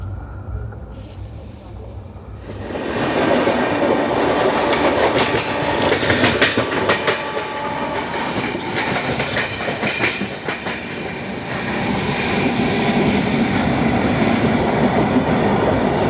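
Inside an AC coach of the Vidarbha Express, the train rumbles along the rails with a steady roar and rhythmic clickety-clack of wheels over track joints, loud and continuous after a quieter opening.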